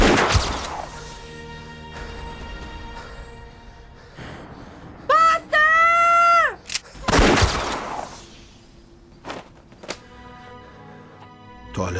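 Gunfire in a comedic film scene: a few loud, sharp bursts with whistling, swooping effects between them and no clear talk.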